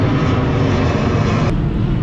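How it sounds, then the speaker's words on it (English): A propeller airplane flying overhead near a Mildenhall race day: a loud, continuous, rough engine roar that stays steady and close for the whole stretch, with no talking. "Noisy bloody airplane."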